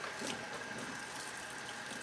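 Water pours onto a dry potted plant in a steady, soft splashing trickle that continues evenly without pause, close by and with no talking.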